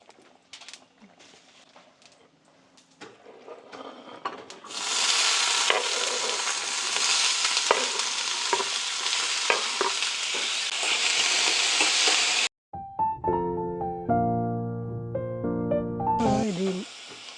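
Mustard seeds dropped into hot oil for tomato rice set off a sudden loud, dense crackling sizzle after a quiet start. The sizzle cuts off abruptly near the end and tuneful music follows.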